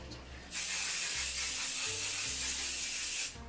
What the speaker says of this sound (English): Make sure you apply a good layer of spray adhesive.